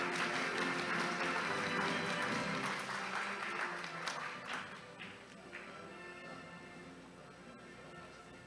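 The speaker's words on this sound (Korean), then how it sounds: "축하의 박수 부탁드립니다" An academic conference audience applauds an award given at the 2023 Korean Accounting Association opening ceremony, with dense, sustained clapping that tapers off over the last few seconds.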